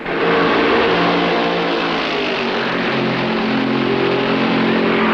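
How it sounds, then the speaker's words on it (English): Stock car engines roar at full throttle during a 1965 NASCAR race at Darlington, including a Ford and a Mercury, a loud continuous engine drone accelerating past without pause. "When the track is clear, the safety car heads for the pits, and Fred Lorenzen puts his foot down"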